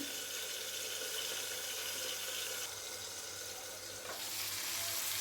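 Onion and tomato gojju frying in a pan, a steady close sizzle that holds level throughout, with faint stirring and no talk.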